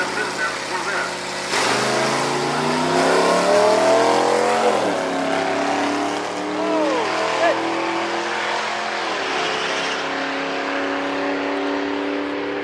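A Corvette drag races against a motorcycle, engines roaring loud and close with sharp pitch climbs and drops through gear changes, while people talk over the noise.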